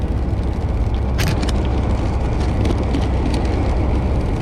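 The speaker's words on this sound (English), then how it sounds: "maybe the car won't be so loud today" A loud car on a drive to get gas makes a constant heavy roar of road and wind noise inside the cabin, steady and unbroken throughout.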